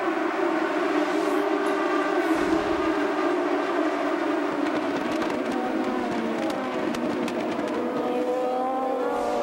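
IndyCar race cars at the 2008 Grand Prix of Sonoma County at Infineon Raceway roar off the rolling start as a dense pack, with loud overlapping engine whines rising and sustained throughout and no talk.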